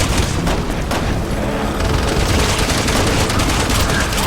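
Dense, continuous rapid gunfire from a helicopter-mounted gun in Resident Evil 6, with booming blasts, loud and unbroken throughout.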